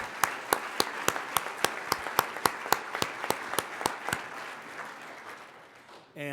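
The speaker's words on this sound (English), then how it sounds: "Let's give Jerry a round of applause." At a public safety luncheon in Denver, an audience gives a short round of applause, with sharp, evenly spaced claps standing out over softer clapping for about four seconds before it stops and the room quiets.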